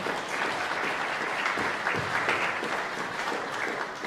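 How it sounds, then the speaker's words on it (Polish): Steady applause from an audience at a live recitation contest event, dense and sustained throughout, with a few murmuring voices faintly underneath. "Wielkie brawa dla was."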